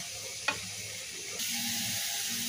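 Boiled spinach tipped into hot oil with fried onion, garlic and green chilli, a sharp clatter followed by a steady hiss of sizzling that jumps louder and continues close by.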